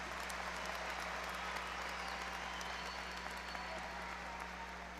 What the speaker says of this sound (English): Go ahead. Applaud yourselves.